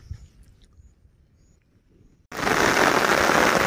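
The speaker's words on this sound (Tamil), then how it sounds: "பாருங்க, அடுத்த மழை ஸ்டார்ட் ஆயிடுச்சுங்க. சரியான மழை" Rain starting to fall on a fishing outing, quiet and nearly still at first, then abruptly turning into a loud, dense, steady downpour that roars alone.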